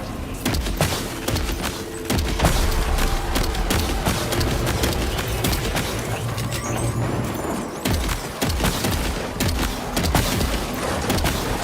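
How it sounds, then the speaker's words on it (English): Sustained gunfire shooting at a ghost in the video game Death Stranding, loud rapid bursts of shots and booms rattling almost continuously with brief lulls. "We can just shoot the ghost now"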